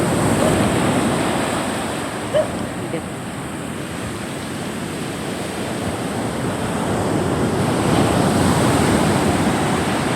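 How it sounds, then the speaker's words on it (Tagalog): Large ocean waves roar continuously nearby, a broad steady wash of surf mixed with wind buffeting the microphone, loud throughout. "Ang laki ng alon."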